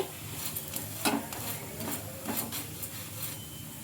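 Rumali paratha roasting with oil on a hot pan, a steady low sizzle broken by several soft scraping and patting sounds as the flatbread is spread and turned, close and moderately loud.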